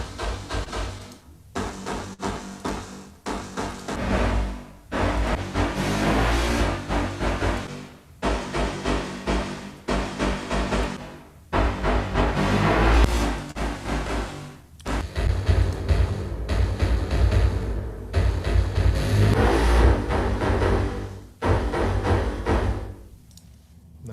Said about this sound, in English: I'll flick through some of these impulse responses so you can see what it sounds like